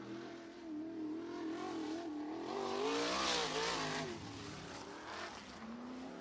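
A USAC sprint car, the number 44 machine, races around the Santa Maria Speedway dirt oval, its engine roaring loud and steady with rising and falling revs through the turns for the whole stretch.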